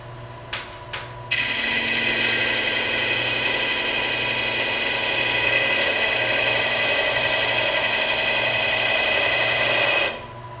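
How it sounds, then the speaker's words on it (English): After a couple of brief clicks, a miniature-turning power tool with a sanding disc starts up and runs at low speed with a steady whine and hum for about nine seconds, then cuts off abruptly. "Low speed for the sanding disc."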